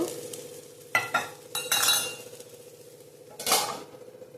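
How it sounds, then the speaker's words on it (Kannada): Rava dosa cooking in oil in a pan, with a soft steady sizzle throughout and a few sharp metal clinks and scrapes of a utensil against the pan. "ಮತ್ತೆ ಎಣ್ಣೆ ಹಾಕ್ಬಿಟ್ಟು ಲಿಡ್ ಕ್ಲೋಸ್ ಮಾಡಿಬಿಟ್ಟು ಬೇಯಿಸ್ಕೊಳೋದು."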